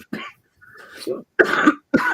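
A person coughs several times in quick, harsh bursts, close and loud, with short pauses between them.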